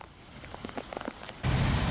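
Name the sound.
heavy rain pouring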